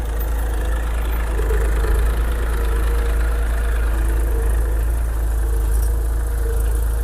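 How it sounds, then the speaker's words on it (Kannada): A tractor engine runs steadily while ploughing a field, a loud, constant low rumble with a droning mid-range hum and no breaks. "ಟ್ರ್ಯಾಕ್ಟ್ರಲ್ಲಿದೆ, ನಮ್ಮ ತಮ್ಮ ಆಲ್ರೆಡಿ ಉಳ್ತಾ ಇದ್ದಾನೆ"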